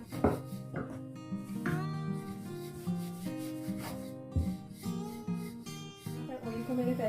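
A small ball of bhatura dough is rolled out, its soft repeated rubbing and scraping strokes running under louder background music.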